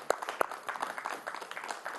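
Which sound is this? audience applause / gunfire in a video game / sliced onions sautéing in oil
audience applause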